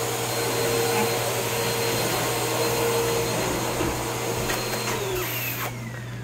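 A vacuum cleaner runs continuously nearby with a loud, steady motor drone and high whine that holds for several seconds in a house with a Great Pyrenees dog, with no talking.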